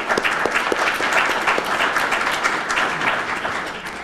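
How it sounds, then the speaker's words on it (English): Audience applause at a neighborhood leadership training session fills the room: dense, steady clapping from many hands, loud and continuous, with no speech over it. "I think we owe him and Courtney a round of applause for the work that they've done."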